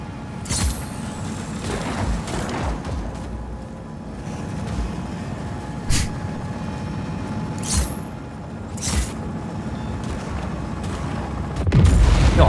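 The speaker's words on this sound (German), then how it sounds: "Ja, Schüsse, ne?" Gunfire and explosive booms in the action video game Just Cause 4: several sharp bursts stand out over a constant loud rumble of vehicles and battle noise, with a heavier boom near the end.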